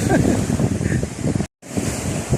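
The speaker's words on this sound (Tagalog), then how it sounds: "Kahit malakas po yung alon po ngayon." Strong surf roars continuously close by, mixed with gusty wind buffeting the microphone, cut briefly by a moment of silence.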